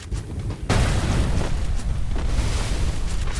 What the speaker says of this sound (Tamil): கார் வெடிச்சிட்டு வர்றோம்.